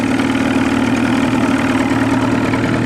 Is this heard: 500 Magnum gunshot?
no